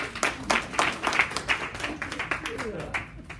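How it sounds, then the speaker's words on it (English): A group claps for itself during a nutrition talk, a patchy ripple of hand claps of moderate loudness with voices talking over them. "give yourself a round of applause"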